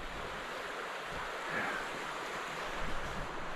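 Steady rushing roar of a fast-flowing river in Smugglers Notch, a broad, constant wash of water with no pauses, heard from the bank.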